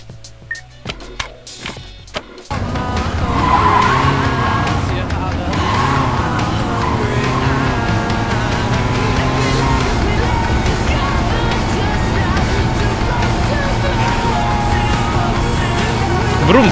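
A car is driven in the video game Saints Row 2. A few clicks give way to a loud, continuous engine roar with changing pitch and tyre noise, and the car sounds close throughout.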